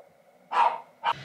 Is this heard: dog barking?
yes